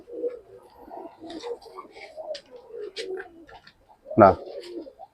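Large pigeons in a loft coo with soft, low rolling calls under ongoing talk, and one louder, sharper call stands out close by near the end.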